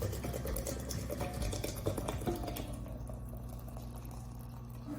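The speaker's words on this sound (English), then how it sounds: "I'm just going to simply fill my jar with my" Hot water poured into a jar over dried herbs for a herbal infusion: a continuous close bubbling, gurgling splash that gradually softens and thins as the jar fills, with no talking.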